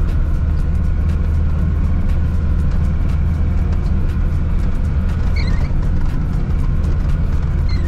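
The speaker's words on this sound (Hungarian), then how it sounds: "Mint halljátok, hangzavar az van a kocsiba bőven, van ami zörögjön benne" Inside the cabin of an off-road 4x4 car driving on rough ground, a loud, constant engine and road rumble fills the space, with faint rattles mixed into the steady drone.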